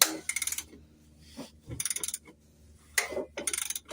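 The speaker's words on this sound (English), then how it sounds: "So let's give the engine 2 revolutions." An engine being restored, turned over by hand for two revolutions: near, clicking ratchet-like mechanical bursts in several separate groups with quiet gaps between.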